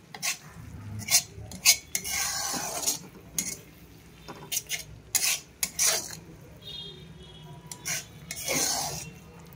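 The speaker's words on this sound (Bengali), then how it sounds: "এবার মটরশুঁটিটা দিয়ে খুব ভালো মতো মশলার সাথে মিক্স করে" Boiled peas being stirred into spice masala in a pan, a utensil scraping and clinking against the metal in irregular bursts with a soft sizzle underneath, close and moderately loud, no voices.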